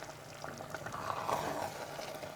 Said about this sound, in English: So from the pot, you can see it's like bubbling extremely.